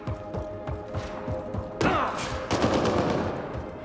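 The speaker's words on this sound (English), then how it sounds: "Who's still shooting?" Gunfire in the video game Mass Effect: Andromeda, with bursts of repeated shots and heavy thuds over a busy combat backdrop, close and loud, with no speech over it.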